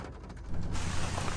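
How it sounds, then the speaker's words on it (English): Steady rain falls outdoors at a historic plantation barn in Jacksonville, Florida, a soft broadband hiss that swells louder and denser partway through and carries on with no voices. "the rain has let up just a little bit"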